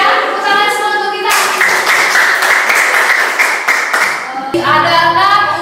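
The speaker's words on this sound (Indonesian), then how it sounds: "tepuk tangan semua untuk kita" A classroom of students claps together in a loud, dense burst of rhythmic hand claps lasting several seconds, with a voice speaking at the start and again as the clapping ends.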